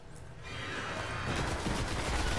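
Rapid rifle fire in the Destiny video game from a Kovostov G7G02 rifle, a dense, loud burst of shots that swells after a brief lead-in and keeps going without talk.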